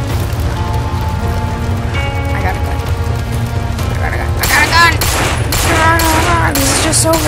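Gunfire in the zombie video game No More Room In Hell, a run of sharp shots that grows denser toward the end, with someone talking over the game sounds.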